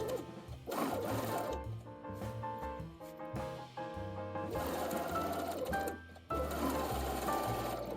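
A sewing machine runs straight stitches along the shoulder seams of a ruched dress, its steady motor hum broken by short stops and restarts, close and loud with no talking.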